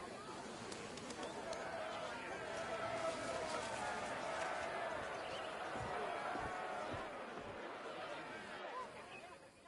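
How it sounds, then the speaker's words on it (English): A crowd in the video game Assassin's Creed Odyssey murmurs and chatters throughout, a busy babble of many voices with occasional thumps. "Enjoy the crowd's reaction"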